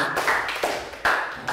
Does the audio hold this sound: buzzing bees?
no